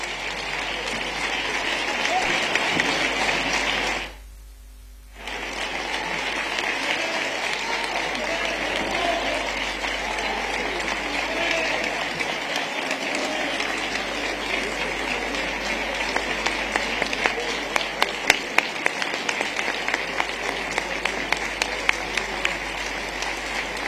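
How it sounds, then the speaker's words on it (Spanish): A crowd applauds and cheers at the proclamation of the Velá de Santa Ana festival in Triana. Dense, sustained clapping runs throughout with a brief gap near the start, and sharper individual claps stand out toward the end. "Ahí está el alcalde aplaudiendo."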